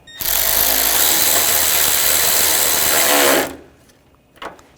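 Power tool snugging a bolt on a front bumper bracket of a 2004-2008 Ford F-150, a loud steady whirring drone running about three seconds, then cutting off to near silence with a faint clack at the end.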